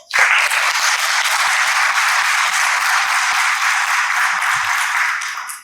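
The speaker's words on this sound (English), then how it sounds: "So please give him a round of applause" A crowd bursts into steady, sustained applause, many hands clapping loudly for several seconds before tapering off at the end.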